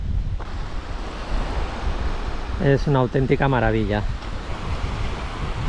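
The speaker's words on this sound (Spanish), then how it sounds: "te vienen un par de olas así un poco más grandes por detrás que rompen" Larger waves rolling in from behind and breaking on a lake during a Yukon River trip, a steady windy surf roar throughout, with someone speaking briefly over it midway.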